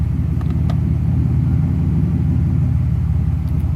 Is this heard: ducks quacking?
no